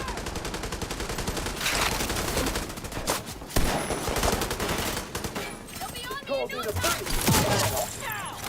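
Shotgun fire in the video game The Division 2: dense, loud bursts of blasts over a busy battle mix, with a voice talking over it.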